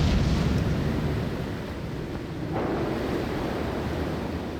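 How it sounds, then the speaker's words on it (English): Big sea waves crash over the bows of a ship in a storm: a loud, constant roar of surf, wind and water washing over the deck without a break, with no voices. "I can hear the waves smashing on the forecastle."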